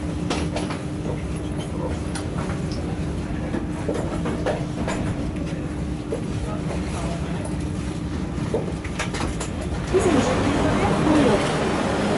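Paris RER B train standing at Charles de Gaulle 2 terminus station, with a steady rumble of idling equipment, a faint electrical hum and scattered clicks that swell into louder rolling and squealing near the end.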